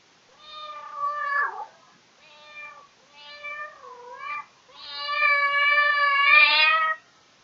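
A cat meows several times in a row, clear and close, with short separate calls first and then one long drawn-out wail at the end, no voices over it.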